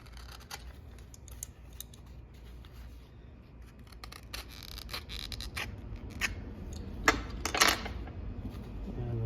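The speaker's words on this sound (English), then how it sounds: "Let me trim this just a little closer in a couple spots here." Scissors trim the edge of a leather tool sheath up close, making quick clipping snips and crisp cuts that grow denser and louder toward the end, with no talking.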